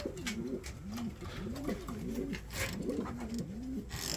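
Domestic pigeons in a loft coo repeatedly in soft rolling phrases, close and steady, with faint rustling around them and no talk.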